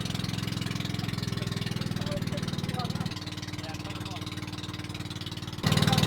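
A boat engine in the Philippines drones steadily with a low, pulsing throb, shifting pitch slightly midway and surging louder near the end.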